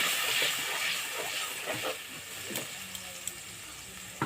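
Onion, tomato, ginger and green chili paste frying in a pan for a Bengali fish curry, giving a steady soft hiss and sizzle with a few light clinks of a spatula, close and moderately quiet.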